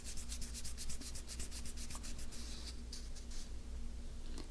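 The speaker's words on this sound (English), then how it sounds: "with my Pro Polish pad, just buff the rest of it off" A Pro Polish pad buffs engraved metal with quick back-and-forth strokes, making a soft, close, rhythmic scratchy rubbing that runs steadily throughout.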